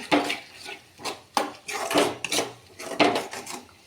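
Chili powder sautéing in a pan comes through as repeated scraping strokes of a spoon against the pan, each a short rasping burst in an irregular rhythm, close and fairly loud.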